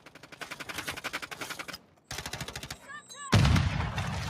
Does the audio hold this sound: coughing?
no